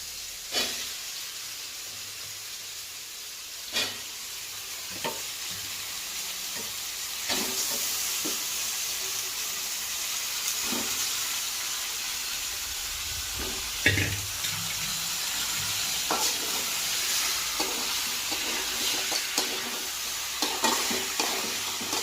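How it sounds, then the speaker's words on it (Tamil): Chicken sizzles and fries steadily in a hot pan, with intermittent scraping and clanks of a utensil stirring it throughout, close and continuous. "நம்ம சிக்கனை சேர்த்து கலக்கிடுச்சு."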